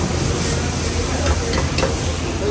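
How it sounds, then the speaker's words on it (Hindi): Garlic-ginger paste fries and is stirred in a pan at a roadside highway dhaba, giving a steady, close sizzle with a few light scraping strokes from the stirring. "ये लहसुन अदरक का पेस्ट होगा नहीं तो पूरा भुनेंगे ये लोग"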